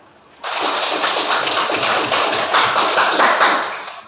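Students in a classroom break into applause after a presentation, a sudden burst of dense clapping that starts abruptly and holds steady for several seconds before tapering slightly.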